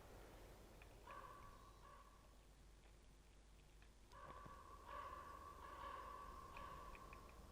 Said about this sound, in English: Oh my god, birds. So many birds.